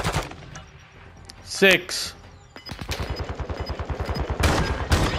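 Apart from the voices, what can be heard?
gunfire from the video game Call of Duty: Modern Warfare II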